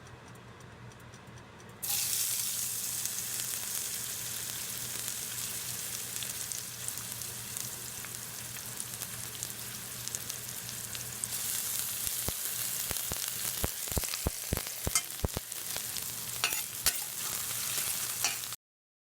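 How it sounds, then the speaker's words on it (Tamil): Chopped large onions sauté in oil in a wide pan, a steady close sizzle throughout with a run of sharp scraping clicks from stirring near the end. "அதை நம்ம இதில் போட்டு நல்லா வதக்குறோம்."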